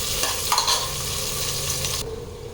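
Onions sauté for biryani, a close, even sizzle with stirring scrapes in the pan that stops abruptly near the end.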